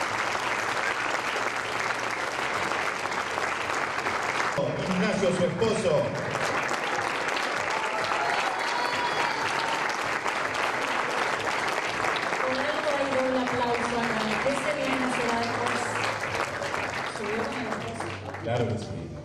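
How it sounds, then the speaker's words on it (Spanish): At a university graduation ceremony, audience applause runs loud and unbroken, with a voice speaking and calls rising over the clapping. "Fuerte el aplauso para eso."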